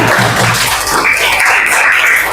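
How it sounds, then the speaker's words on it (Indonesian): Audience in a classroom-style session applauding three winners, a brief burst of dense, steady clapping throughout. "Tepuk tangan untuk mereka bertiga"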